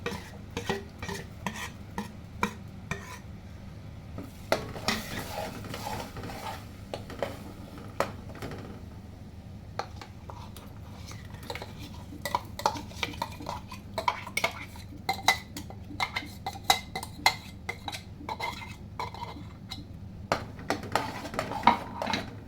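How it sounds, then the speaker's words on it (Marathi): A spoon stirs ground gravy in a cooking pot in a kitchen, with repeated clinks and scrapes against the metal and a soft sizzle of oil underneath, at a steady, busy pace. "साधारण एक 5-7 मिनिट आपल्याला कंटिन्यू हलवत राहायचं आहे त्याला तेल सुटेपर्यंत."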